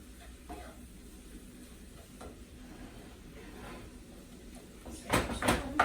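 Minced beef frying in a pan, a low soft sizzle while it is stirred, with a few scrapes and then a louder burst of scraping and clatter near the end.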